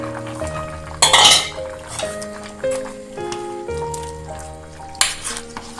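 Sambar with okra and tomato being stirred in a pot, with clanking spoon-on-metal strikes and a couple of sharp scrapes over a background of tonal music.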